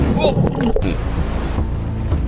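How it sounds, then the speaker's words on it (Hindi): Strong waves on the open sea, with broadband wash and wind buffeting steady throughout and a voice talking over it. "यहाँ लहरें बहुत तेज हैं, बहुत मुश्किल हो रही है।"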